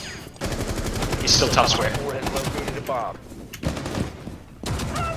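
Rapid bursts of gunfire in the video game Rainbow Six crack out in quick strings, loud and close, while a player talks over and between the shots.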